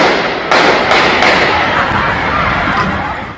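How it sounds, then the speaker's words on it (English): Several sharp gunshots in quick succession, loud and echoing, erupting during a game in Dallas, followed by a sustained noisy wash of crowd-like commotion. "You can hear that gunfire erupting right in the middle of the game."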